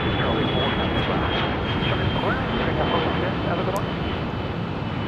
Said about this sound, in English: There's a Cessna 520, or what is that, an old 550?